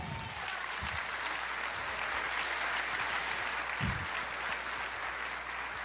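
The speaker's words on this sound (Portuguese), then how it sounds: "Você pode aplaudir o Senhor?" A church congregation applauds during a sermon, a steady wash of many clapping hands held at an even level throughout, with a few low thumps underneath.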